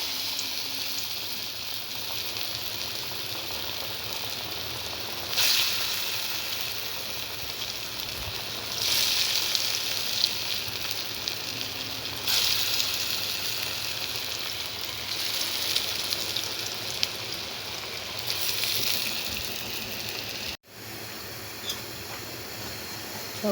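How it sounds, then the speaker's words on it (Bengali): Steady sizzle and crackle of bora fritters frying in hot oil, a continuous bubbling hiss with louder spurts as pieces are dropped in one by one, no talking. "ভালো করে মেখে তেলটা যখন গরম হয়ে আসবে তখন এক এক করে দিয়ে দেব।"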